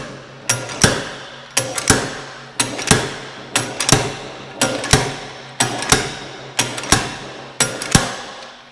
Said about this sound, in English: just start hammering this thing out of here